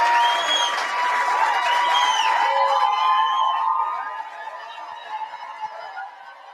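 A large crowd cheers at a political rally, with loud high-pitched shrieks and whoops swelling together, then fading to scattered, softer yells toward the end.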